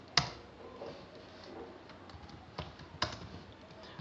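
HTML code being typed on a computer keyboard: sparse, irregular key taps with a few sharper clacks, close and alone in a quiet room.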